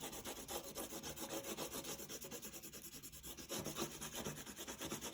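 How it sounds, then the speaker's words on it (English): A pointed crayon rubbed back and forth on paper while coloring a flower, a steady, quiet rasping scratch in short rhythmic strokes, close and alone. "I started coloring on this side and this side and this side, always the crayon will be pointy, not blunt."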